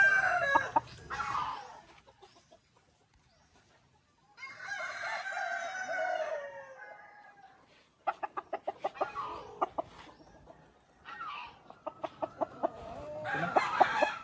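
A native rooster crows loudly in a long, drawn-out call, surrounded by clucking and scratchy fowl noises nearby.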